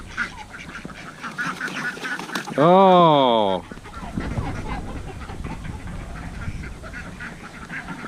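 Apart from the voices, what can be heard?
ducks quacking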